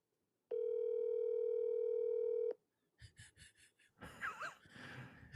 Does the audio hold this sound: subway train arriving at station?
no